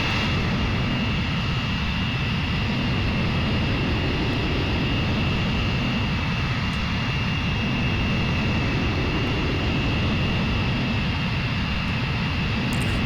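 Avro Vulcan B2 jet engines in Microsoft Flight Simulator, a steady, loud, broadband roar with a constant high whine, continuous throughout with no voices.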